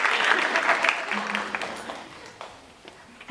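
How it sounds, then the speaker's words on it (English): Audience applause at a Latino graduation celebration ceremony in 2015, a burst of clapping that is strongest at the start and tapers off over a few seconds, with some voices mixed in. "Can we give my sister an applause?"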